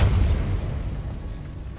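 Depulso spell cast in Hogwarts Legacy, a short deep whooshing boom that fades over about two seconds, with no speech.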